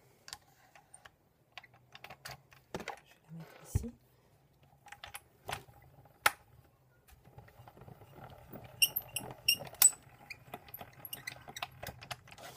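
A small hand-cranked die-cutting machine clicks and ratchets up close as paper passes through, scattered sharp clacks giving way to a steady rattling grind, with a brief spoken phrase.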